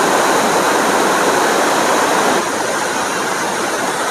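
Fast-flowing Ganga river water rushing and crashing against bridge pillars at a barrage near VIP Ghat in Haridwar, swollen after rain; a loud, steady broadband roar with no break and no voices.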